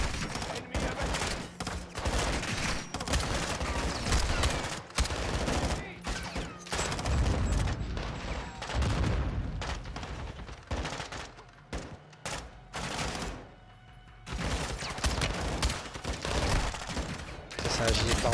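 Dense bursts of automatic gunfire in Call of Duty: Modern Warfare 2 rattle in repeated volleys with brief lulls, bullets striking around the player, fairly quiet overall, with speech now and then.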